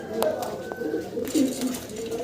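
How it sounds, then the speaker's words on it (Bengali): Pigeon cooing, from an active fighter-type pair on a pigeon farm, heard as soft low coos amid bird chatter and background noise, with people talking nearby. "আমি ওর কবুতরের ডাকটা একটু দেখাই দিই"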